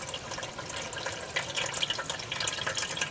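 A hose runs water into a barrel for a single-barrel aquaponics system, a steady close rushing and splashing that holds constant throughout without speech.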